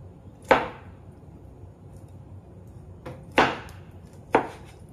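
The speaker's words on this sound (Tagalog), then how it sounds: "so kinakat ko na yung ating pineapple into like this one." Three sharp knife chops through pineapple on a cutting board, spaced irregularly with the last two close together, crisp and near, with no talking, while preparing sweet and sour pork.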